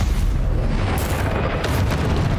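Confringo spell explosion in Hogwarts Legacy, a deep, loud booming blast that rumbles continuously through the short moment, close and dominant with no talk.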